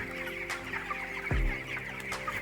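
Broiler chickens about 22 days old cluck together in a poultry house, a dense, steady flock chatter with occasional louder individual calls and a brief low thump partway through.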